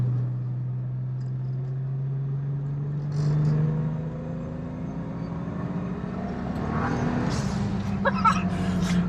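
A turbocharged road car's engine pulls under boost with traction control working, a steady droning note rising in pitch through the run, close and fairly loud, with whooshing and whine building toward the end.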